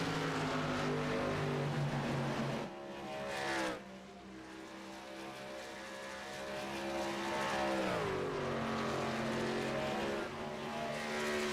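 Racing truck engines roaring at Kansas in iRacing, a continuous loud high-revving drone with shifting pitch as trucks pass and accelerate, briefly dipping mid-run, with no voices over it.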